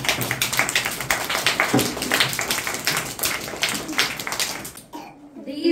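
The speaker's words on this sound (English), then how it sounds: "Clapping." Audience applause at a school quiz prize-giving, a dense steady patter of many hands clapping in a hall, fading out near the end.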